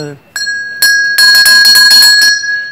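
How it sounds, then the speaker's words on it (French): A cowbell rings repeatedly in quick clanging strokes, loud and close with a bright metallic ring, after a short voice at the start. "un petit peu de cloche de vache, parce que la nature manque"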